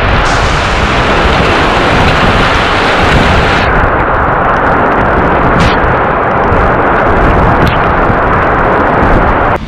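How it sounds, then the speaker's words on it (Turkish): Heavy storm rain in Skopje, North Macedonia, roars steadily and loudly throughout, a dense, unbroken wash of noise like a downpour close by. "Gürültülü, fırtınalı, sağanak yağış devam ediyor."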